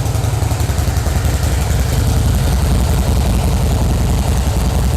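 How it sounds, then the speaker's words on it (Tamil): Deep, rumbling exhaust of a Harley-Davidson Fat Boy motorcycle with a 1750cc engine idling steadily at close range, a continuous low throbbing with no other sounds. "இந்த வண்டியோட எக்ஸாஸ்ட் நோட்டை கேளுங்க"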